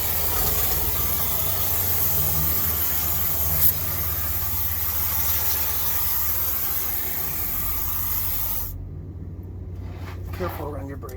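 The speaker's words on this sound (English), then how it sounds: "put your nozzle on, then you can kind of see how it sprays" Steady loud hiss of Fluid Film rust protection spray jetting from an aerosol can nozzle onto the underside of a Lexus GX460, continuous for several seconds before cutting off abruptly, leaving quieter background noise.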